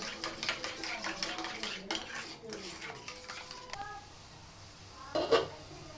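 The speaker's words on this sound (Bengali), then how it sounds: "এটাকে জল ঝরানো দই, এটাকে একটু ভালো করে আমি ফেটিয়ে নিচ্ছি" A spoon whisks strained yogurt in a bowl with quick, rhythmic clinks and scrapes, close and moderately loud, slowing near the end before a brief louder clatter.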